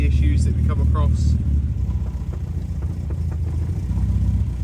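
A 1988 Austin Mini engine with a new carburettor setup runs steadily nearby, a low, even rumble that holds throughout, with a voice briefly over it at the start.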